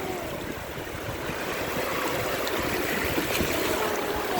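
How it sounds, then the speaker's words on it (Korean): Ocean waves wash onto the shore in a continuous nearby rush of surf, a broad watery roar that swells slightly and keeps going with no voices over it. "파도가 철썩철썩 치지?"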